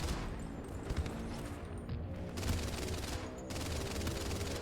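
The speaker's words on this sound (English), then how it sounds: "Get the MG42 lighting up some of these jeeps" Sustained bursts of automatic gunfire from an MG42 machine gun in a WW2 video game, rattling rapidly in dense, loud volleys with brief pauses between bursts and no voices.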